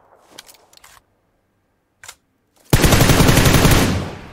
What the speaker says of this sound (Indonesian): satu detik satu detiknya nembak pakai M4 berapa peluru yang keluar